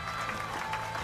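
A crowd in The Legend of Heroes: Trails Through Daybreak II applauds President Gramhart. Steady, dense clapping carries on at moderate volume for the whole brief moment.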